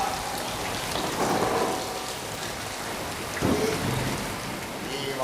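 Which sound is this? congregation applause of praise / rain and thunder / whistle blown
rain and thunder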